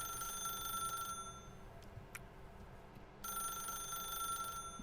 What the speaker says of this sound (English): No pienso contestar el teléfono.